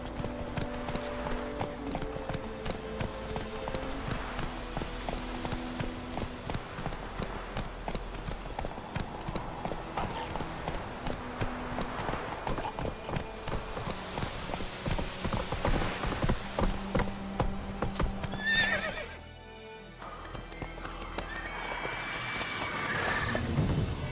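Rhythmic hoofbeats of a horse galloping in The Witcher 3, steady clip-clop throughout with a short break near the end before resuming, set against a soft wash of background ambience.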